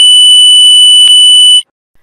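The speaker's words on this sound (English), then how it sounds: "The buzzer can reach more than 95 decibels." A 24V multi-colour LED warning tower lamp sounds its built-in buzzer, a loud, steady, piercing electronic tone that holds for about a second and a half and then cuts off abruptly, leaving silence.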